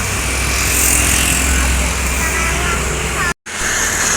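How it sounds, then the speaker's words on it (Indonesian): A brand-new bus pulling into the Yohanda Prima depot, its engine rumbling loud and close over outdoor traffic noise, with a short dropout near the end. "Ini ya bus yang baru tiba masuk ke Yohanda Prima, unit terbaru"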